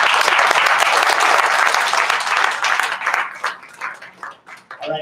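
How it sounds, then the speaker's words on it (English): Loud, dense audience applause at a retail industry conference session, sustained for about three seconds and then thinning into scattered individual claps as it fades. "Give a round of applause."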